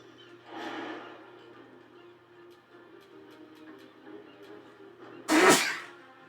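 Faint breathing and quiet room noise, then a sudden loud sneeze bursts out near the end, close by.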